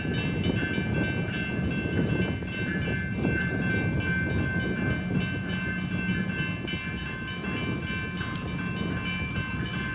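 Union Pacific locomotive 8860 slowly leads an outbound manifest freight train past Baseline Road, a steady rumble of rolling wagons with sustained metallic squeal and wind buffeting the microphone throughout.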